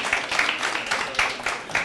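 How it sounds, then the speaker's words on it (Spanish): An audience at a PHP community meetup applauds a speaker, a steady, moderately loud rush of many clapping hands with no voices over it. "Les dejo a Raimundo, por favor, un fuerte aplauso."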